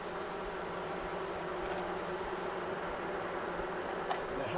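Agitated honeybees at an opened American AZ hive, swarming near the brood chamber, give off a steady, dense buzzing drone that holds at one level from start to finish without pause.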